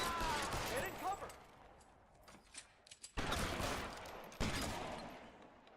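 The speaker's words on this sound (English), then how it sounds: "Oh, maybe it was a shotgun." Shotgun fire in the video game L.A. Noire: several loud, sharp blasts spread across a shootout, with someone talking over the first part.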